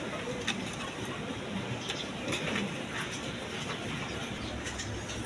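Pigeons, a pair that includes a red Gola hen, cooing softly in a cage against a steady wash of background noise, low burbling murmurs that are faint and partly buried.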